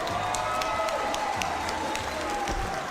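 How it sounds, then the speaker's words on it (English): Crowd applause in an arena after a mixed martial arts bout between Jorge Masvidal and Joe Lauzon, a soft, continuous clatter of clapping heard at a distance behind an announcer's voice. "how about a nice round of applause for both fighters,"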